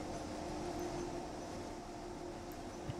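A train rumbles steadily along in the Train Sim World video game on the Ruhr-Sieg Nord line, a quiet, even drone with a faint steady tone and no talk over it.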